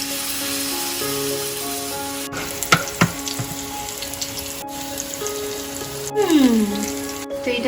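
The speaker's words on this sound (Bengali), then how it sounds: "চিকেন টিক্কাগুলোকে ফ্রাই করবো।" Chicken tikka pieces fry in hot oil in a pan, giving a steady close sizzle with crackles and occasional clicks and knocks of utensils, without talking.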